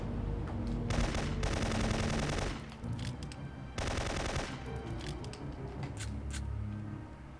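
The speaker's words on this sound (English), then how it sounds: "Heavy sniper fire from the end of the valley!" Heavy automatic gunfire from the video game Syphon Filter 3, with two long sustained bursts of rapid shots separated by mechanical clatter and scattered shorter volleys, loud and continuous.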